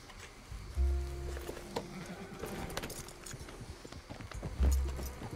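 Hoof clops and a faint horse whinny sound over a busy, muffled Red Dead Redemption 2 game backdrop, with low thuds near the start and end.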